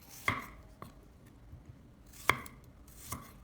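A knife slicing garlic cloves thinly on a cutting board, three or four sharp, well-spaced chopping taps, close against a quiet background.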